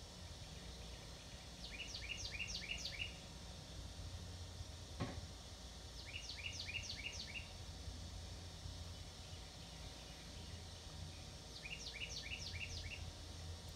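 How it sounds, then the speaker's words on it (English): A bird repeats a quick descending trill three times at even intervals, faint and distant over a low steady background hum. "Hear all those birds in the background?"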